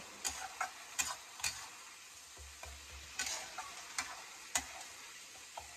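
A spoon scrapes and stirs a paste of coconut, mustard, poppy seed and green chilli in a pan over a low sizzle, in irregular taps and strokes, close and fairly quiet.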